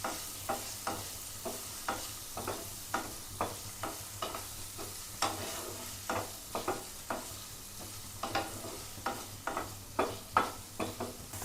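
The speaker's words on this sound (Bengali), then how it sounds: "দিয়ে জাস্ট একটু শুধু ফ্রাই করে নেব, যেন কাঁচা কাঁচা গন্ধ ভাবটা যাতে না থাকে।" Paneer and other vegetarian pizza-topping ingredients being stir-fried in a pan, with a steady sizzle and regular scraping strokes of a spatula close by, repeating roughly every half second with no talk.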